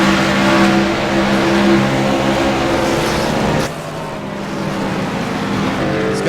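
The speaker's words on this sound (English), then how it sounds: "Craig Embry trying to catch that 51 car" Race car engines roar at Sonoma Raceway during a stock car series race, loud and close with a steady high drone that drops suddenly partway through, as if a car passes, then builds again.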